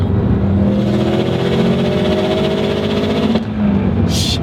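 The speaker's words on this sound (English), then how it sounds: "Got a little backfire." A tuned 2005 Subaru STI running an 18G turbo at about 21.5 to 22 psi of boost, its engine droning loudly and steadily close by. A sharp crackling pop of backfire breaks in near the end.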